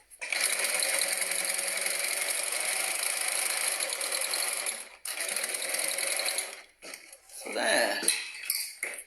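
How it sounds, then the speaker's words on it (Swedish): A sewing machine stitches a homemade fabric face mask with a filter pocket and nose wire, running in a steady close whir for about five seconds, pausing briefly, running again, then giving way to fabric handling. "Och syr på."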